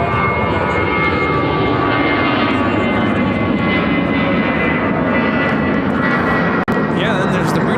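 An Atlas Air jet arriving at Chicago O'Hare rumbles in a steady, loud broadband roar with a faint whine above, while voices talk over it throughout.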